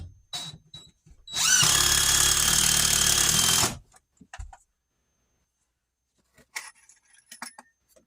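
A power drill drives a screw into drywall in a cold closet. One loud, steady whir lasts about two seconds, followed by light clinks and handling noises in a quiet room.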